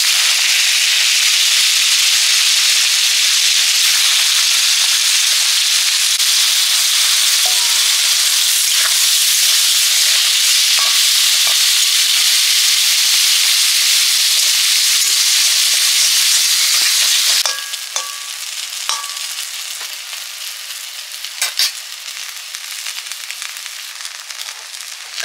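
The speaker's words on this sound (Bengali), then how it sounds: "পেঁয়াজ, শুকনো লঙ্কা, জিরে বাটা দিয়ে কলা ভাজা হবে।" Raw plantain rubbed with turmeric and salt fries in a pan with a loud, steady sizzle. Later the sizzle eases slightly, with a few sharp crackles and pops. No one speaks.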